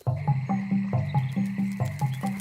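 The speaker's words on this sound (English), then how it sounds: "I've turned Ben into a frog and he's hopped off somewhere." A cartoon frog at a pond croaks in a steady, repeating series of loud, close, resonant ribbits, about two per second, with no voices.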